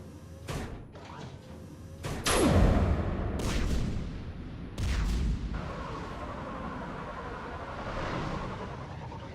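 Heavy guns blasting through a perimeter in the sci-fi game Mass Effect 3: several loud, deep booms and thuds spaced a second or two apart, one with a falling whistle-like sweep, over a low rumbling background.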